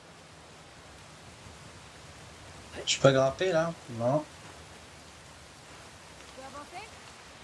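Waterfall in the video game Uncharted: The Lost Legacy, a steady, soft rushing hiss that runs through the whole stretch while a few words are spoken briefly in the middle.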